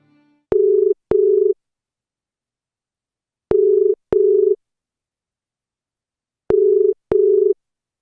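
A telephone ringing in three paired bursts of a steady electronic tone, evenly spaced with silence between, loud and alone.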